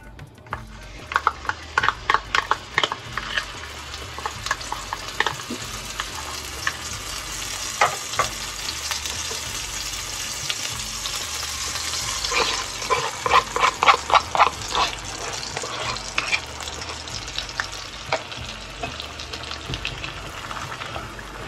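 Two pastes fry in hot oil for a Hyderabadi bagara baingan brinjal curry, a steady close sizzle running throughout with repeated bursts of spoon scraping and stirring clatter against the pan.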